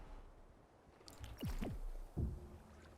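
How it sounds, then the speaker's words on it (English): Water blocks placed in the building game Creativerse give a few short, soft watery squishes and bloops with quick swooping tones, quiet and isolated against a faint background. "Place some water."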